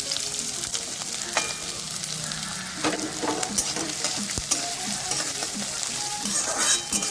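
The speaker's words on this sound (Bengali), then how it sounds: "গরম তেলে কুচিয়ে রাখা পেঁয়াজগুলো দিচ্ছি, পেঁয়াজগুলো ভেজে নিচ্ছি খুব ভালো মতো করে।" Chopped onions fry in hot mustard oil in a wok, a dense close sizzle with intermittent scraping stirs and occasional crackling pops running steadily throughout.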